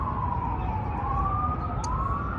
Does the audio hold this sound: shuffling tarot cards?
no